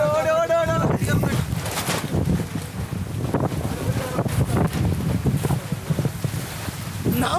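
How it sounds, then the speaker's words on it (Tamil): Strong wind roars and buffets the microphone during a storm on a night ride aboard an Alappuzha houseboat. The gusty rumble is continuous and loud, with a voice talking over it. "பயங்கர காத்தும் மழையும் மாட்டு இருக்கு."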